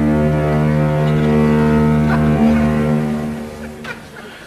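Deep foghorn blasts from a neighbouring foghorn factory, a loud sustained low drone that holds steady for several seconds before tapering off, with a brief higher honk near the end; no speech.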